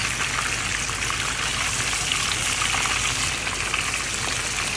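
Fish browns in a hot frying pan for Jamaican brown stew, a steady close sizzle and crackle of oil that holds even throughout.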